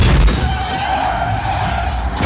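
Car tires skid with a sustained, loud screech over engine rumble, lasting about two seconds with no talk, as in a car crash scene.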